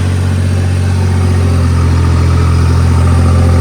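Tractor engine idling steadily on a Punjabi farm after the paddy harvest, a loud, close, continuous low rumble with a constant throb and no voices.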